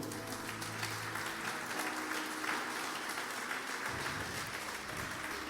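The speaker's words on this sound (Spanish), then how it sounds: "Señor, déle un aplauso al Señor." A church congregation applauds during an Easter sermon, a continuous, even wash of clapping at moderate loudness over a low sustained hum, with no separate claps standing out.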